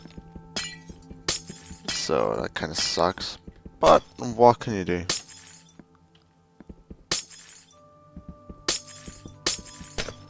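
Blocks of glass shatter and clink in Minecraft, several short sharp breaks in quick bursts, heard over someone talking close to the microphone.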